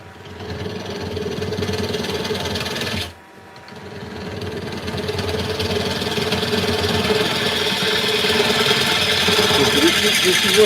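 A carbide tool cuts a wood bowl on a lathe, a steady rough hiss over the motor's whine. It briefly cuts out and then resumes, growing slightly louder, with no talking.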